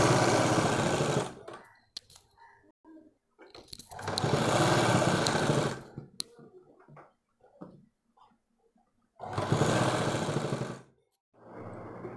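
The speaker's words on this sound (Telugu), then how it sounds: "పైపింగ్ మనం ఈ విధంగా ఒకే విధంగా సన్నగా వచ్చే విధంగా కుట్టుకోవాలి" A sewing machine stitches piping onto a collar-neck blouse in three loud, sustained whirring bursts separated by quiet pauses with faint handling noises.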